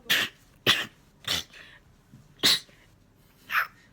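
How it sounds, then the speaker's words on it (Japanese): A run of six short, sharp sneezes from a person in a hakama, each a sudden breathy burst separated by brief pauses, close and fairly loud with quiet between. "くしゃみしてるとこ撮るんですか？"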